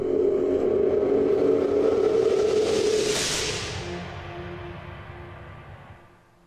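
The Padshop Heavenly Whispers synth pad in Cubase plays on its own as a dense, airy, breathy wash that swells briefly, then slowly fades away over several seconds.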